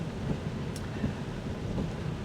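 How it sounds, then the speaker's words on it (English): Heavy rain drums on a BYD Atto 3 fitted with Atlas Batman tyres as it drives. The downpour makes a dense, continuous wash over the low rumble of the moving car. "having those rear wipers, particularly when the rain gets a bit heavier, as it's doing now."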